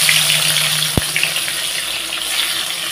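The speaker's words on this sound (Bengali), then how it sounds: "তো দেখো ক্যাপসিকামটা এখন ভেজে নেব।" Capsicum fries with a little salt in hot oil, a steady loud sizzle with crackling spatters and one sharp knock near the start.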